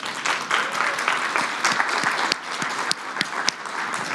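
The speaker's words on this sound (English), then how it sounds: "give yourselves a round of applause for showing up today" Conference audience at a SXSW talk claps together, a lively wash of many hands with a few sharp individual claps standing out, sustained from start to finish.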